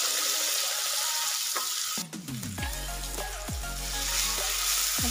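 Tomatoes sautéing in a pan for a fish curry: a steady, moderately close sizzle with stirring scrapes, interrupted midway by a few ringing metallic clangs of a spoon against the pan.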